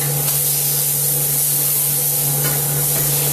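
Chicken browns in a hot pan, giving a loud, close, continuous spray-like hiss and sizzle over a steady low hum, with no one talking.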